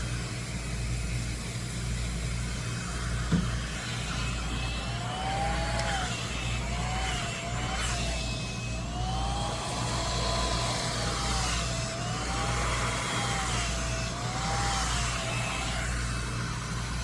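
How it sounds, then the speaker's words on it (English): A hair dryer on its low setting runs steadily close by without a break, a smooth airy drone with a faint warbling whine riding over it. "I got it on low. I like to use a flat dryer for this part."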